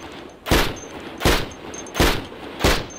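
Four gunshots from a firearm in the Cataclysm: Dark Days Ahead video game, loud sharp cracks spaced evenly about three quarters of a second apart, each with a short decaying tail, no speech.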